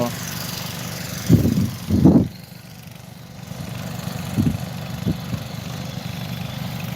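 A tractor engine chugs steadily at idle, with a couple of louder revving bursts early on and faint voices over the low rumble.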